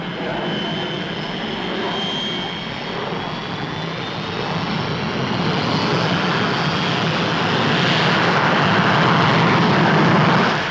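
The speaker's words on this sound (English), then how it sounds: "The Delta II is yet another research aircraft probing into the future." Delta II supersonic research aircraft with exceptionally thin wings in a flying demonstration at Farnborough, its engine roar a steady broadband rush that slowly swells louder toward the end, with no voices.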